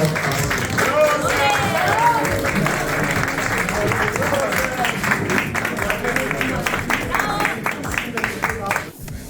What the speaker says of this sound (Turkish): Onu şimdi ödülünü takdim etmek için öncelikle kocaman alkışlarınızla sahneye davet etmek istiyorum.